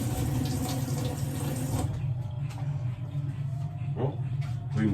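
Tap water runs steadily into a kitchen sink while bread is washed during bruschetta prep, a fuller rush for the first two seconds that then settles into a lighter, splashy trickle, close by with no talk.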